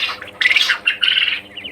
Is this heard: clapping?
no